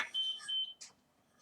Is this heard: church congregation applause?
no